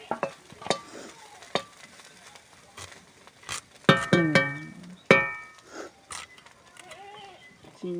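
Prawns and sliced vegetables frying in a pan for a Bengali prawn chorchori with cauliflower, with sharp clinks of a spatula stirring, bursts of sizzle and loud scraping strokes, and brief voices in between.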